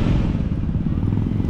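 Many motorcycles pass on a busy street, making a dense, steady engine rumble close by, with voices faintly mixed in.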